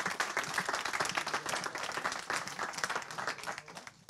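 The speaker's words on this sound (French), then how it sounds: "On peut l'applaudir encore." Audience applause after a talk at an Agile Day 2024 conference session, dense and steady clapping from a room of people that holds at an even level for the whole stretch, with no talk over it.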